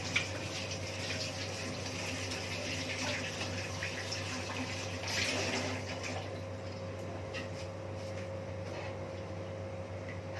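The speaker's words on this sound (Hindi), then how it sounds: "अच्छा मैं हाथ धो लूँ" Water runs from a tap while hands are washed, a soft, steady trickle and splash heard faintly throughout, with a brief louder swell of splashing midway over a constant low hum.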